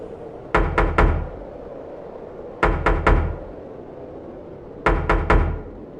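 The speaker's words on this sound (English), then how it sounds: "From below, the knocking came." Knocking rises from beneath a car in three evenly spaced bursts, each a quick run of three hard, fairly loud raps over a steady low hum.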